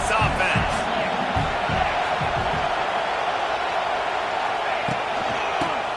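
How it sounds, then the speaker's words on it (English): A college football stadium crowd roaring steadily throughout, a dense wall of cheering under a commentator's voice, with a few sharp thumps and whoops rising out of the din. "This crowd trying to make life miserable for this offense."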